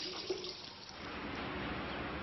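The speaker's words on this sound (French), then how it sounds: "Un petit robinet pour boire." A small drinking-water tap runs in a bare concrete prison cell, giving a steady, fairly faint hiss of flowing water with no talking.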